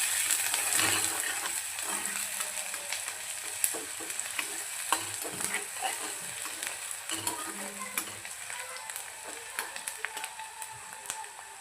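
Chopped onions sautéing in hot oil in a pan for dal tadka, a steady soft sizzle with occasional sharp clicks of a spoon stirring against the pan, alone and fairly quiet.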